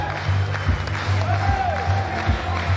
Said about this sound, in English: And now, what a crowd.